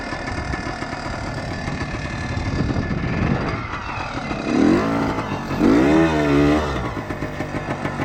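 A 1976 Kawasaki KT250 motorcycle is ridden nearby, its engine sputtering and revving in uneven bursts with rising and falling pitch, loud and close without talk.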